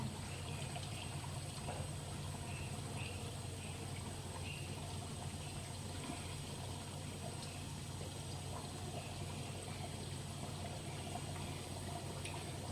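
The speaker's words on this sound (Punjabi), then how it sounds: "ਆਪਾਂ ਨੇ ਪਹਿਲੀ ਕਚੌਰੀ ਨਾ ਤੇਲ ਦੇ ਵਿੱਚ ਛੱਡ ਦਿੱਤੀ ਆ" Potato-stuffed kachori deep-frying in hot oil, a continuous faint bubbling hiss that stays even and unbroken throughout, heard close with no talking.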